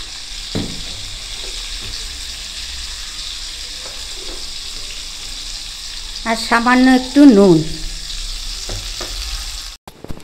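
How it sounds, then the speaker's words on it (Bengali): Potato pieces frying with turmeric in a pan over medium heat give off a steady, close sizzling hiss throughout, and someone briefly speaks over it. "আলুগুলো মিডিয়াম আঁচে রেখে ভাজতে হবে"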